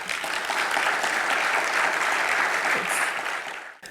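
A crowd applauds at the official launch of Volkswagen electric cars in Rwanda, a full, sustained round of clapping that fades out near the end.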